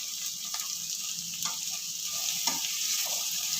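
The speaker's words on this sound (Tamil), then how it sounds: "சட்டுன்னு வெங்காயம் வதங்கும்." Onions sautéing in a pan with salt for a tomato and eggplant gothsu, a steady soft sizzle with faint stirring scrapes, close and unbroken.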